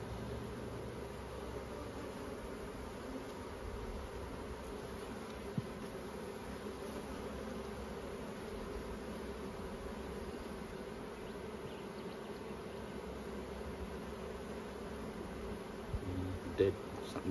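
Honeybees hum around an open hive during spring management in Australia, a faint, steady buzzing drone that continues throughout, with a brief knock near the end.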